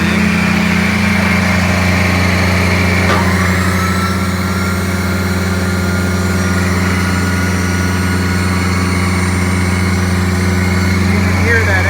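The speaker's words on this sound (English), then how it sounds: "You can hear that exhaust. Like I said, it is set right now to a high idle." A 2019 Freightliner M2 knuckleboom tire-repair truck idles high, its exhaust giving a loud, steady low drone throughout with a brief sharp click near the start.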